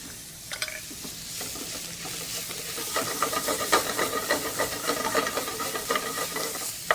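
Food sautéing with Moroccan spice mix in a hot pan, a soft hiss at first, then busy crackling sizzle and repeated stirring scrapes, close and steady without talk.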